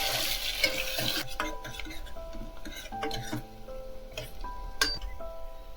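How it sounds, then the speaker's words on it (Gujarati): Onion fries on a low flame in oil with crackled cumin seeds for a bottle gourd and lentil dish, a soft steady sizzle with spoon clinks and scrapes against the metal pan. "જીરું તતડી ગયું છે હવે આપણે ડુંગળી નાખી અને ડુંગળીને શેકીશું ધીમા ગેસ બ્રાઉન કલરની થાય ત્યાં સુધી"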